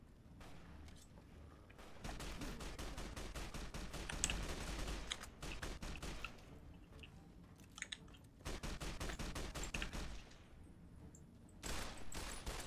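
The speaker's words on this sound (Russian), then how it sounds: "там кто-то стреляет" Bursts of gunfire in Fallout: New Vegas, dense volleys of rapid shots in several long stretches separated by brief pauses, loud and close with mechanical clatter between.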